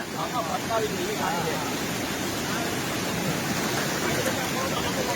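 Strong flood water of the Ojat river rushing past, a loud continuous roar of churning flow filling the whole stretch, with faint voices of people nearby underneath.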